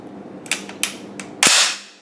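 Bolt of a Swedish AG42 Ljungman rifle with the magazine removed, pulled back and let fly forward: a few light clicks, then one loud sharp metallic snap, close and alone.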